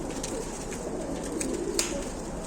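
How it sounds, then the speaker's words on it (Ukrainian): Ukrainian high-flying pigeons coo softly in a low, throaty murmur over steady background noise, with a brief flutter or rustle near the middle. "Отакі ці голуби, отака ця порода"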